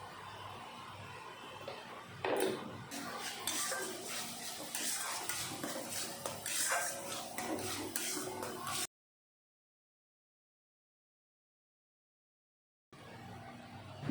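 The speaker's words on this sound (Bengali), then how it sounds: "পেঁয়াজ বাটা একটু ভেজে নিয়ে দিয়ে দিলাম ধনে গুঁড়ো, জিরা গুঁড়ো, হলুদের গুঁড়ো, লাল লঙ্কার গুঁড়ো আর নুন দিয়ে এখন আমি ভালো করে কষিয়ে নেব।" Onion paste with ground coriander, cumin, turmeric, red chilli powder and salt stirred and fried in a pan, a steady sizzle with scraping stirs, broken by a few seconds of silence before it resumes.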